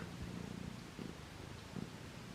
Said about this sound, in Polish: Ty już mruczysz.